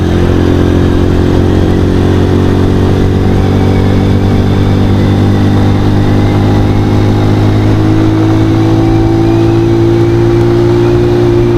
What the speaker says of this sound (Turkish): Aman kesiciye giriyor bu ya